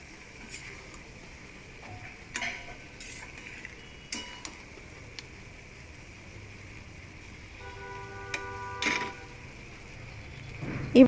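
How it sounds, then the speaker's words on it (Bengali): Fried lentil dumplings (bori) are stirred into a pumpkin and Malabar spinach curry in a pot, giving soft intermittent scrapes and clinks of a spoon over a faint steady simmer, with a few sharper knocks near the end. "ভেজে রাখা বড়িগুলো দিয়ে দিলাম।"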